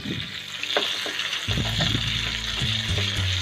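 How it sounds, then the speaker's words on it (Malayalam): Tandoori chicken fries in a pan over a medium flame, giving a steady close sizzle with bursts of spattering and some stirring scrapes, with a low background hum and no voices. "ഇപ്പോൾ ഏകദേശം 5 മിനിറ്റോളം നമ്മൾ മീഡിയം ഫ്ലെയിമിൽ ഇതിങ്ങനെ ഫ്രൈ ചെയ്തുകൊണ്ടിരുന്നു"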